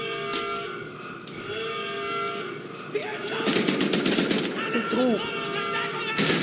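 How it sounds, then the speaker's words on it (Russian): Gunfire in the first-person shooter Wolfenstein: The New Order, rapid clattering bursts and metallic clinks over a droning background, growing denser in the second half, with a voice speaking faintly. "Я в тебя стреляю."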